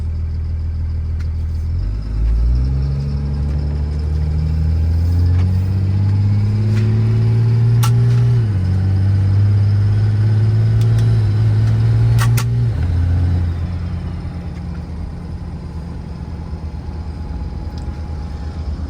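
A car engine pulling through gears on a drive, rising in pitch then dropping at each shift, loud and steady, then settling to a quieter cruise near the end; a few faint chimes are heard.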